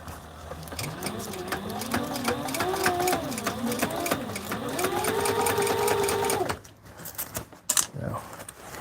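A sewing machine stitches flight suit fabric at a steady, close, continuous hum with a changing pitch, then stops and leaves quiet handling noises. A person talks over the stitching.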